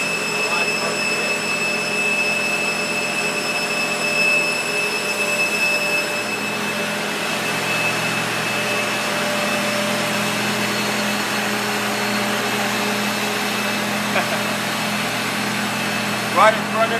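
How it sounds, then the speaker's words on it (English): Gas turbine engine at a university physical plant, heard close up as a steady, loud roar with a sustained high whine and constant low hum throughout, no speech over it. "Right in front of you is actually how compact this gas turbine engine really is."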